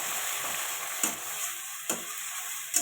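An egg fries in a wok for a flattened-rice pulao, giving a steady soft sizzle with three brief scraping stirs spaced about a second apart, close and moderately quiet with no voices.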